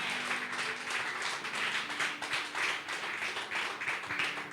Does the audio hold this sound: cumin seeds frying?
no